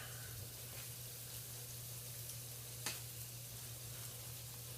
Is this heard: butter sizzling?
yes